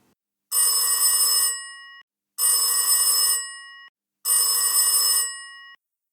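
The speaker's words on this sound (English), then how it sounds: "his phone rang once, twice, 3 times before he answered" A telephone rings three times in evenly spaced, bright electronic trills, each about a second long, with silence between rings.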